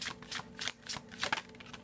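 Tarot cards being shuffled by hand, a rapid run of riffling bursts in an uneven rhythm, close and fairly quiet with no one talking.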